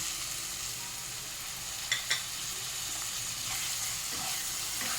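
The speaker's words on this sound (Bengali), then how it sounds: "টমেটোটা দিয়েও ভালো করে কষিয়ে নিতে হবে, টমেটোটা সেদ্ধ হওয়া পর্যন্ত।" Tomato fries with chicken kofta masala in a pan, a soft steady sizzle with two quick spatula clinks and occasional stirring scrapes, close up and with no talking.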